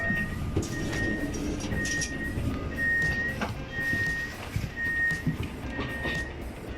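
An express passenger train bound for Oslo rumbles steadily, with a repeating electronic beep tone sounding at regular intervals over the noise.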